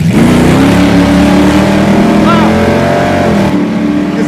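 A Chevelle drag car on nitrous roars close by with a rising whine as it launches from the line and accelerates hard, steady and powerful, with a voice faintly underneath.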